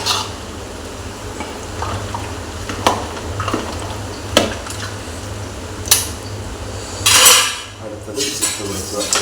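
Grated coconut is stirred in a pan with a metal utensil, giving sporadic scrapes and sharp clinks over a steady low hum, with a brief louder rasp near the end.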